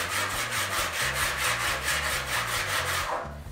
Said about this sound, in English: I'm DA sanding it and then using a file